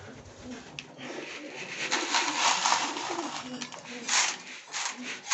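Several pigeons coo in a breeding loft, overlapping throaty calls rising and falling over a few seconds, fairly close and moderately loud.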